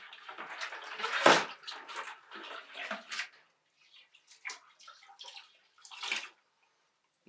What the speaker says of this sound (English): We're going to sanitize our funnel, dip it in real quick.